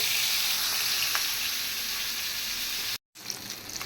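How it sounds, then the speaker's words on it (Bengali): Fish shallow-frying in hot oil in a home kitchen, a steady bright sizzle running continuously, close and fairly loud, broken by one brief silent gap near the end before the crackle resumes. "মাছটা ভাজা হয়ে গেছে আমি উল্টে পাল্টাইয়া মচমচা করে ভেজে নিলাম"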